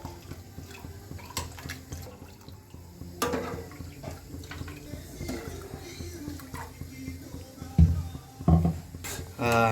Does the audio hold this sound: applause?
no